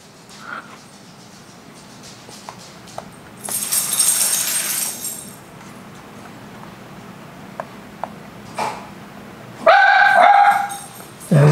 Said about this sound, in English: And naturally the dog has to bark.